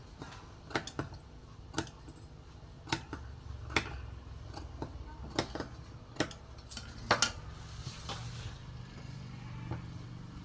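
Scissors make small, quiet snips in blouse fabric, a scattered run of light clicks and ticks against faint background noise.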